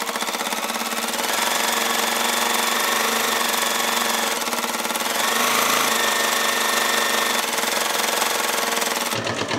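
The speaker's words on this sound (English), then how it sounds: "start by sewing from the folded edge to the cut edge" A sewing machine stitches a seam on a homemade rice heating pack with a rapid, steady mechanical chatter, loud and close throughout with no voices, and stops abruptly at the end.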